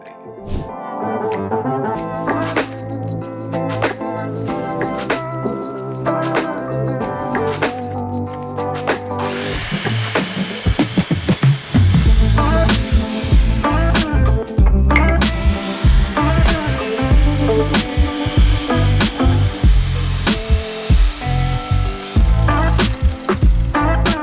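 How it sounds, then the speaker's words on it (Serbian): A sliding miter saw cuts wooden slats, its motor spinning up loudly with bursts of cutting noise over the last half, after a stretch of background music and handling sounds. "Počinjemo tako što ćemo iseći letve koristeći kliznu preklopnu testeru."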